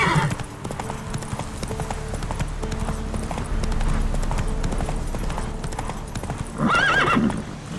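A horse gallops in The Witcher 3 with steady, rapid hoofbeats under continuous game ambience, then neighs loudly near the end.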